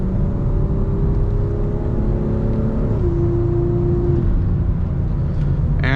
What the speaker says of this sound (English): I hope you can hear the intake though, it sounds crazy